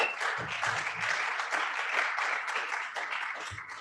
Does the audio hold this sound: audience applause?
yes